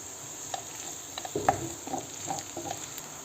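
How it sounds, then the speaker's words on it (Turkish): Onions and garlic sizzle quietly in a pan while a utensil scrapes and taps in a few light stirring strokes. "Biraz kavuralım soğanlarımızı pembeleşene kadar. İçerisine 2 adet doğradığımız sarımsağımızı ilave ediyoruz, karıştırıyoruz."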